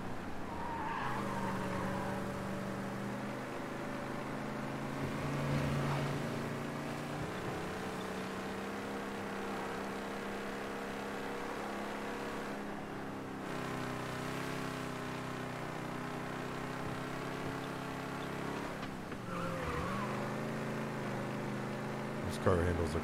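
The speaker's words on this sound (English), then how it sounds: "This car handles like a dream." A car in the video game Mafia: Definitive Edition drives with a steady engine drone, tires squealing in skids, while people talk over it.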